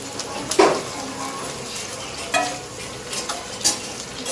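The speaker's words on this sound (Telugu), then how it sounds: "Frying the onions" Onions fry in a pan with a steady, close sizzle, broken by a few louder clinks and scrapes from stirring.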